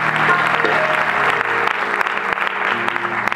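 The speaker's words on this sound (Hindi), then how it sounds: "इसके लिए जोरदार तालियां" Loud applause from a concert audience, dense clapping that fills the hall throughout, with faint musical tones and voices beneath it.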